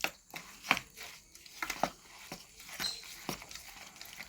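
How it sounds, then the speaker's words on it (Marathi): Jaggery is grated by hand in a Konkan kitchen, giving a close series of quick rasping, scraping strokes in an uneven rhythm. "गूळ कसं किसून टाकायचं आहे आपल्याला."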